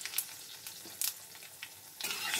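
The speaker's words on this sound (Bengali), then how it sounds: "আমার তেলটা হয়ে গেলে এবার কালো জিরে আর শুকনো লঙ্কা ফোড়ন দিয়ে দেব।" Nigella seeds and dry red chillies crackle in hot mustard oil in a kadai, giving a light sizzle with short crisp pops and a louder burst of frying near the end, with no talking.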